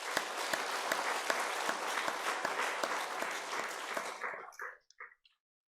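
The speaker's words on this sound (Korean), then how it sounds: "우리 한번 힘찬 응원의 박수 한번 하겠습니다" A church congregation claps together in a steady, dense round of applause during a Sunday service honoring parents, loud and continuous before thinning out and stopping with a few last scattered claps.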